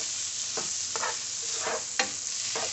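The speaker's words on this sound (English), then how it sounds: "I put my onions in there and getting those stir fried" Cactus and onions stir-fry in salted, herb-seasoned butter on a skillet, holding a steady close sizzle with rhythmic spatula scrapes about every half second.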